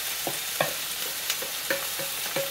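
Onions and beef sizzle together in a hot pan for a shank goulash, with steady frying hiss under repeated clicks and scrapes from stirring, close and moderately loud.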